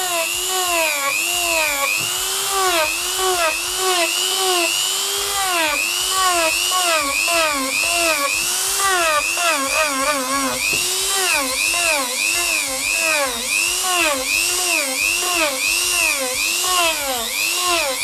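A Procraft PG400 rotary engraver runs at maximum speed, whining steadily and close by with a high tone that wavers up and down continuously as it cuts.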